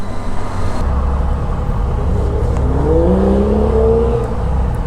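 A BMW accelerates close by, a steady engine roar that rises in pitch as it revs, heard over constant road and wind rumble from a moving motorcycle.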